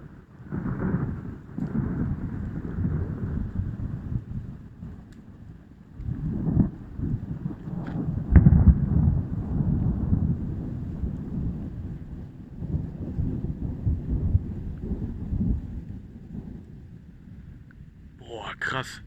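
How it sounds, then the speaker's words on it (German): Thunder rolls through a thunderstorm in long, low rumbles that swell and fade, with one sharper crack partway through, under wind buffeting the microphone; a voice briefly breaks in near the end. "Ich frage mich, ob der Donner beeindruckender war."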